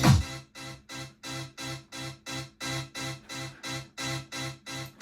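A Rave Generator RG2 synth plugin in a happy hardcore track fires a rapid, evenly spaced run of bright, buzzy chord stabs, each short and punchy, repeating about three times a second at steady loudness with no voices.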